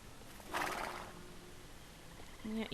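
A horse in the video game Star Stable gives a single clear whinny, soft and fairly distant, with faint clip-clop sounds around it and another short call near the end.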